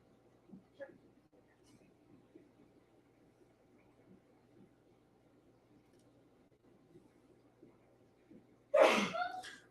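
One loud, abrupt sneeze bursts out near the end after a long stretch of quiet, low room hum in a shrimp aquarium room, with faint rustles and a small sound early on.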